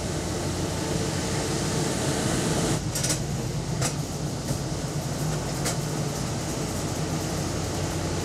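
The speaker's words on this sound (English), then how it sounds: "This is our backup air conditioner" A backup air conditioner runs in a radio station transmitter room, giving a steady broadband roar with a low hum, joined by a few brief clicks or rattles partway through.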